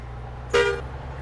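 A single short bus horn blast in the Bus Simulator India video game, a bright toot lasting about a quarter second over a low steady engine hum.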